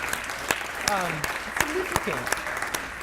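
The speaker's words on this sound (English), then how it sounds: "We should clap it up for them." Audience at the Indianapolis Neighborhood Resource Center's annual meeting clapping for Community Building Institute graduates: scattered, moderate applause with distinct individual claps, while voices speak and call out over it.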